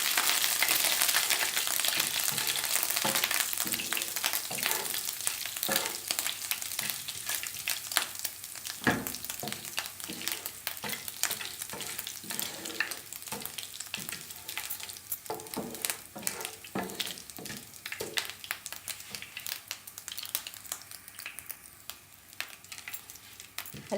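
Ginger garlic paste frying in a few spoons of oil in a pan, a steady close crackling sizzle with occasional stirring clicks, no voices.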